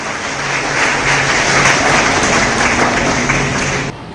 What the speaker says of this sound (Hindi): अतिथियों का स्वागत, तालियां हो जाए।